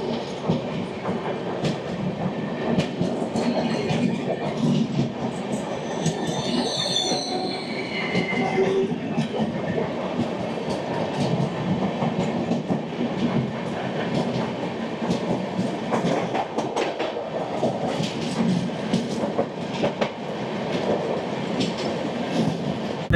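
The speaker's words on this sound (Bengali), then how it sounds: "চলে আসছে ট্রেন নাম্বার 18005 হাওড়া থেকে জগদলপুর সমলেশ্বরী এক্সপ্রেস" Samleshwari Express, train 18005 from Howrah to Jagdalpur, rumbles past close by with steady, loud rolling wheel noise and high metallic squeals rising over the continuous rail clatter.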